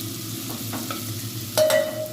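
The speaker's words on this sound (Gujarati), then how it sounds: "મસ્ત સ્મેલ આવે લસણ ને ડુંગળીની ફ્રાય થવાની ત્યાં સુધી આપણે એને સાંકળી લઈશું" Garlic and onion sizzle steadily while a spoon stirs them around the pan, with a brief louder scrape and hiss near the end.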